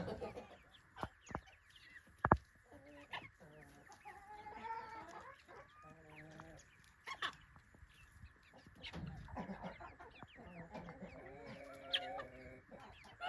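Several chickens, new hens and a couple of older hens, cluck and burble nearby in short, repeated bursts, with occasional sharp clicks and scuffs between the calls.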